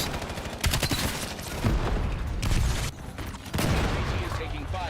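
Bursts of video game gunfire with a target under fire, dense crackling volleys that surge and drop in several loud waves over steady background noise.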